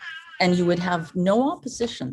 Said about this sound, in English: I have an old cat who tells me when he pees.